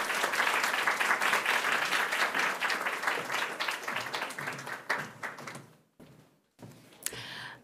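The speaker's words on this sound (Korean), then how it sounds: "우리 박수로 함께 모시도록 하겠습니다" A church congregation at a Sunday worship service applauds to welcome a guest pastor, steady clapping for about five seconds that thins out, followed by a couple of soft knocks and a short pause.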